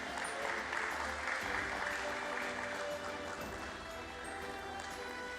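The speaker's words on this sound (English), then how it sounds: "Ladies and gentlemen, a huge round of applause for Mr. Pranshu Garg," Steady audience applause at a closing bell ceremony for B. D. Industries (Pune) Limited at BSE, a dense, continuous clapping of many hands that holds at even loudness throughout.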